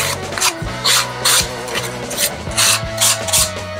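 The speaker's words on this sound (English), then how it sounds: "I just took and hand sanded the edges down just a little bit" Wooden edges of a small cactus pot being hand sanded, rhythmic rasping strokes about twice a second, close and clear, with no talk.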